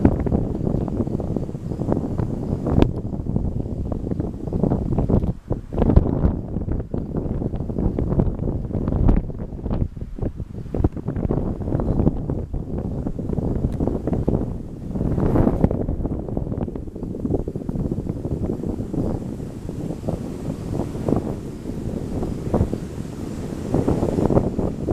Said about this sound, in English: It's very windy, guys.